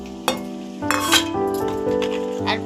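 Chicken with chilli and turmeric powder sizzles in a pan while a spoon stirs it, giving a steady fry hiss with a few sharp scrapes and metallic clinks up close, and nobody speaks.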